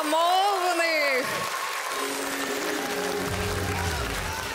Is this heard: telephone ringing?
no